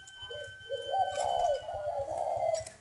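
Spotted doves in a breeding aviary near Ba Vì, Hanoi, give soft, low, rhythmic coos, one call rolling into the next at close range against a quiet background.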